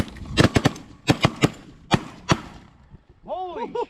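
Several loud, sharp shotgun blasts go off during a North Dakota goose hunt, two close pairs and then singles spread over a few seconds, followed by honking geese calling nearby.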